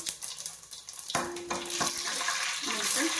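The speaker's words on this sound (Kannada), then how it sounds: "ಸ್ವಲ್ಪ ಸಾಸಿವೆ ಹಾಕೋಣ, ಸ್ವಲ್ಪ ಕರಿಬೇವು ಸೊಪ್ಪು ಹಾಕೋಣ" Mustard seeds and curry leaves hit hot oil for a fish sambar, a sudden loud sizzle that swells into a steady crackling fry, close up.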